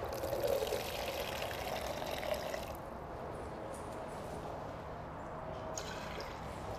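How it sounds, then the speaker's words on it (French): Water pours steadily into an agricultural sprayer tank during tank mixing, a continuous close splashing rush that eases slightly partway through and keeps running to the end, with no talking. "On va venir rajouter de l'eau en espérant que de remplir mon pulvérisateur"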